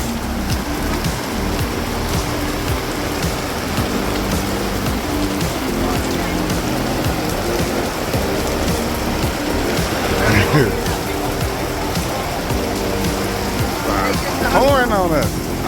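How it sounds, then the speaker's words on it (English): Steady rain falls in a continuous loud hiss, with a few brief sharper sounds rising over it near the end. "Raining."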